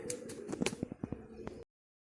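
A few pigeons perched after a flight give short, faint coos in a quick cluster of low notes, close by and alone, cutting off abruptly.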